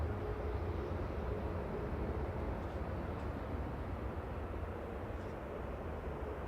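A Jet2 airliner taking off at Manchester Airport, heard as a steady, loud broadband roar that holds evenly without voices.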